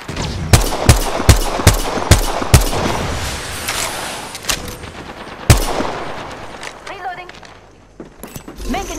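Apex Legends gunfire: a rapid run of sharp, evenly spaced shots up front, then scattered single cracks and a heavy report midway, with in-game voice callouts throughout.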